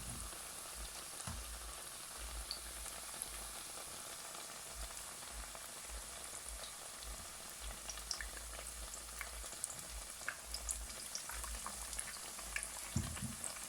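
Eggplant slices fry in a pan over medium heat, a steady close sizzle and crackle that runs unbroken throughout, with a few louder pops near the end and no talking.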